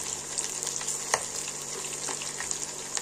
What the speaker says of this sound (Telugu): బాగా ఎర్రగా గట్టిగా కాల్చుకుంటాము చికెన్ పకోడా